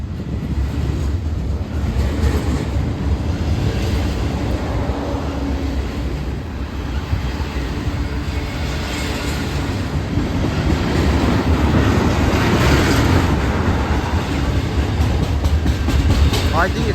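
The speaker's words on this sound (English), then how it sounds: "And this Union Pacific ICBOA train, I think it will be stopping" A Union Pacific freight train led by SD70ACE locomotives rolls past close by, a loud continuous rumble and wheel clatter that swells toward the end, with no break for the whole stretch.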